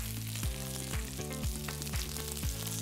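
Homemade fish fingers frying in a pan, a soft steady sizzle with low rhythmic tonal sweeps running under it, fairly quiet and with no talking.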